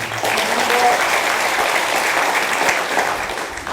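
Loud, sustained applause from a large audience at a university entrance ceremony, dense and even for several seconds before tapering slightly at the end.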